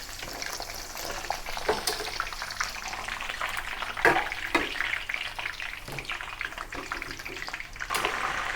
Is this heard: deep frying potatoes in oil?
yes